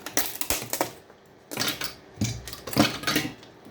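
Scrap power boards being cut apart to recover copper and aluminium: clustered metallic snipping and crunching in short bursts with brief pauses, close and fairly loud.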